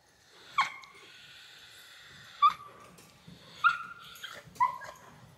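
A dog whines in four high, thin, drawn-out cries spaced a second or two apart, near and fairly soft at a horse stable.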